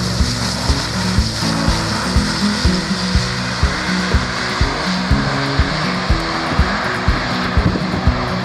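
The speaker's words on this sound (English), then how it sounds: "It's the Airbus A400M." An Airbus A400M Atlas turboprop touches down at the Royal International Air Tattoo 2017 airshow, heard as a loud, continuous broad roar with faint rhythmic ticking throughout and no speech.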